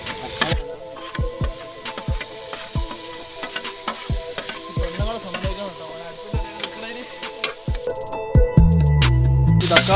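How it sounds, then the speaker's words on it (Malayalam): Tomatoes sizzle and fry with salted, softened onions in a pan, a steady crackle broken by repeated sharp taps and scrapes of a spoon stirring, with a louder clatter near the end. "നമുക്ക് അതിലേക്ക് തക്കാളി ഇട്ട് കൊടുക്കാം."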